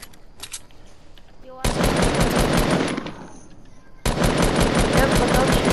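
Rapid automatic gunfire in a video game, shooting down a structure, arriving in two long, loud sustained bursts separated by a brief quieter gap.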